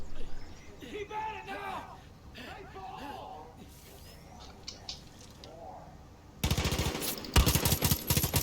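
Gunfire in the video game Far Cry 5, with a loud burst of rapid automatic shots near the end, after stretches of talk and quieter game sounds.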